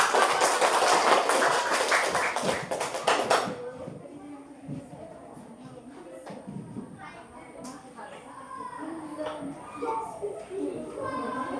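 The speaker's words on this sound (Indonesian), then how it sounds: "Oke, kasih tepuk tangan." A classroom of students bursts into loud applause and cheering for about three seconds, then it fades into quieter chatter and scattered voices.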